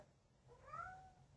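A special needs cat meows once for attention, a single drawn-out, quiet, slightly rising and falling cry close by in a quiet room.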